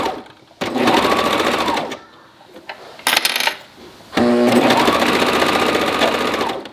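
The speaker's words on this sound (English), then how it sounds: "Sewing with a really fluffy sweater knit, so I'm going slow, making sure I'm getting all those little fluffy edges." A sewing machine stitches a fluffy sweater-knit sleeve in two steady, close bursts of running, separated by a short pause with light clatter.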